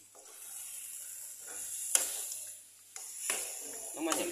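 Food frying in a pan being stirred in a home kitchen, likely a soy-sauce dish, with soft continuous sizzling and a few louder scraping stirs, close by, under occasional quiet voices.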